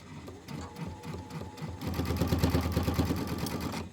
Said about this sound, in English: I'm going to sew these together and then I'll sew over it again